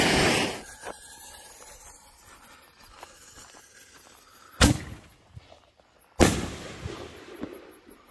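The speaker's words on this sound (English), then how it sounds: "Next up, we got Sky Titan. I believe these are by Dominator Fireworks." Dominator Fireworks Sky Titan neon canister shells explode outdoors in two loud, sharp booms a couple of seconds apart, each followed by crackling and rumbling echoes over a background hiss.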